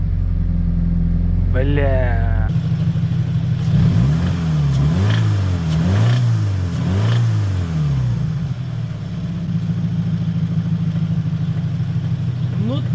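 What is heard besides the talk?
Scion FR-S Subaru engine revving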